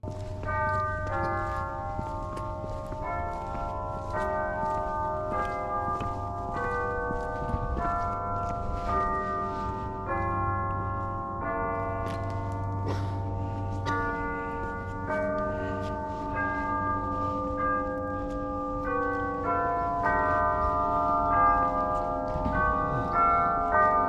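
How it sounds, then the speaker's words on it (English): Church bells ring steadily in a long overlapping peal at Old Salem, moderately distant, with their tones layering and sustaining throughout. "we actually caught the church bells on this trip"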